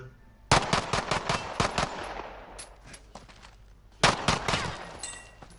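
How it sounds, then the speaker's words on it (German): Bursts of rapid machine-gun fire from a PS4 shooter game: a loud, fast volley that fades into echoing single shots, then a second burst near the end. "Ich werde beschossen!"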